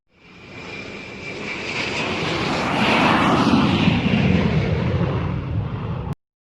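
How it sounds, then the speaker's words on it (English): An airplane's engine roars in a rising, steady rush that grows louder over several seconds before cutting off abruptly, with no talking. "Airplane."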